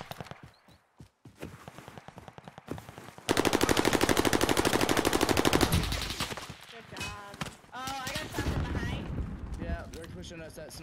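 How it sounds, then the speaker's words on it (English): Rapid machine-gun bursts and scattered gunshots in a Caldera battle royale match, a dense sustained volley in the middle with footsteps and other game noise around it, while players talk over the action. "now I'm getting shot from both sides"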